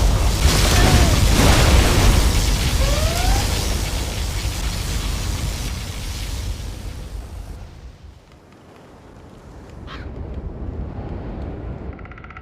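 A particle cannon fires in Command & Conquer Generals Zero Hour, a loud booming blast with a rolling rumble that fades out, followed by a faint short zap and low residual noise.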